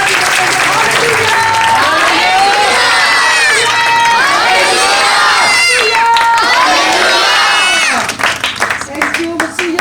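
A large congregation at a Christian church meeting on Double Road in Rawalpindi claps loudly and steadily together, mixed with cheering and shouting, a dense sustained roar that thins out near the end.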